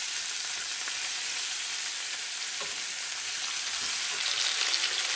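Chicken pieces browning in a hot frying pan give a steady, bright sizzle that stays continuous and fairly loud, with occasional stirring crackles and no talking.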